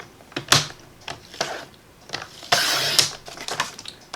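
Cardstock for a birthday card being cut on a trimmer, with a string of sharp clicks and sliding scrapes and one longer slicing swish near the middle, close and fairly loud with no speech.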